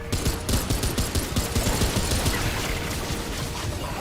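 Gunfire in the Remnant 2 video game rattles off in rapid, dense bursts of loud, close shots that run without a break for about four seconds.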